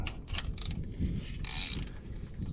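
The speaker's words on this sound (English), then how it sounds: "So let's get my ratchet." A hand ratchet clicks on the clutch fan hub bolts of a 2007 Freightliner truck with a Detroit Series 60 engine, giving quick close mechanical ratcheting pulses with metallic creaks, no talking.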